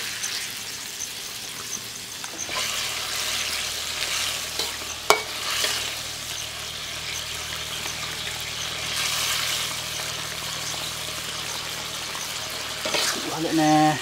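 Octopus frying in a pan with rustic village spices, coastal Tuban style, a steady close sizzle broken by scraping and clatter as the pieces are stirred and turned over, with a sharp knock partway through.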